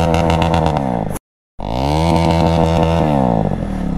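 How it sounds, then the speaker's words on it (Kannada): Motorcycle engine firing up and revving hard during a water crossing, loud and close with strong harmonic whine, cutting out briefly before roaring back and holding at high revs. "ಇಂಜಿನ್ ನೋಡಿ ನೀರು ಹೋಗ್ಬಿಡುತ್ತೆ ಬೇಗ ಸ್ಟಾರ್ಟ್ ಮಾಡು"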